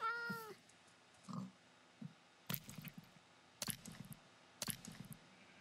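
A cat in Minecraft gives a clear meow at the start, followed by sparse clicking and tapping, likely keyboard or mouse input, in an otherwise quiet stretch.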